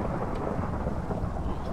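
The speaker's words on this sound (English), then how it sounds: "Thunder." Thunderstorm with rain in Minecraft, a dense steady roar of rainfall mixed with low rumbling thunder that fills the scene evenly without pause.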